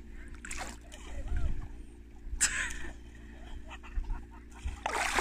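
People jump into a Swedish lake and hit the water with splashes, the loudest near the middle and at the end, while children and adults shout and talk around them.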